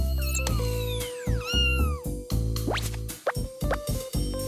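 A cartoon cat meowing in an animated series, a run of several loud, close, drawn-out meows with sliding pitch, accompanied by other sharp cartoon sound effects.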